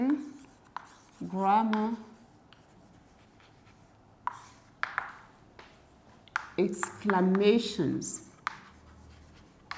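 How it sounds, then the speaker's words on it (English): A marker or chalk scratches out a title on a classroom board in short strokes, heard up close between spoken teaching. "I'm going to write the title"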